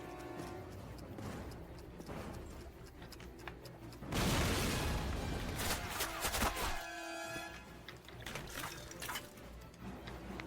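Rapid bursts of gunfire in Call of Duty (2003), Eder dam mission, rattle over background music, swelling into a loud, dense barrage midway before tapering back into scattered shots.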